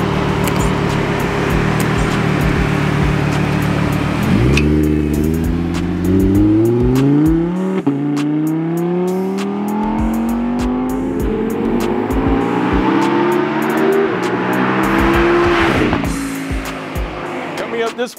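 A 2017 Audi R8 supercar engine revs and accelerates hard through several rising gear pulls, loud and close, with tire noise and a brief shift gap before it fades toward the end.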